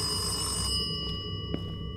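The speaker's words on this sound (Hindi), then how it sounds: "ये फोन आया, किसी का फोन आया, रुक जाओ फोन" A telephone rings inside a dark house in the Indian horror game Kamla, a steady electronic ring in a fairly loud, busy scene with no talk over it.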